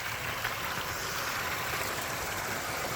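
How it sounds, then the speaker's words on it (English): A waterfall pours steadily into a backyard koi pond in the early morning, a constant close rushing splash with no other sounds. "A wonderful waterfall."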